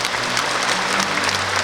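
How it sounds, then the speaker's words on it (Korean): Audience applause at a memorial ceremony and cultural event, a dense, loud, sustained clapping from a large crowd throughout. "우리 도민, 시민 여러분 모두를 위해서 힘찬 박수 부탁드리겠습니다."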